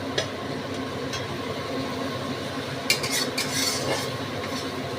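A spoon stirs spice masala in an oiled pan for cream malai paneer kofta, scraping and clinking against the metal over a soft steady sizzle, with a few sharper knocks.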